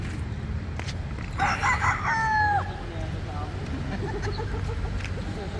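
Several roosters crow at a cockfighting arena, one clear cock-a-doodle-doo standing out close by over a steady crowd murmur and background noise.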